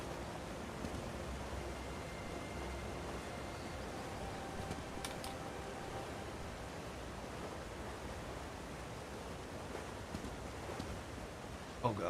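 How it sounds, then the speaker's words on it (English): Waterfall ambience in The Elder Scrolls Online, around Grahtwood, as a steady broadband rushing wash with no clear breaks and faint game sounds on top. "I feel like I hear a waterfall."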